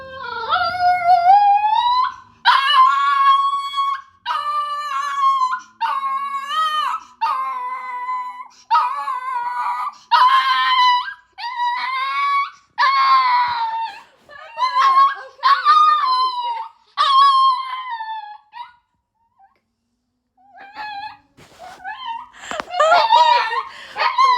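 A house dog howls and whimpers in repeated drawn-out, wavering cries, fairly close and loud. The cries come in bursts with short gaps and a longer pause near the end before they start again.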